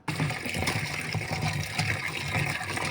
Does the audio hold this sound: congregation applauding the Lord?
no